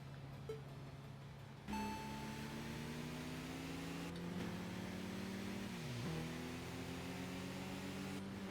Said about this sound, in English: Car noises.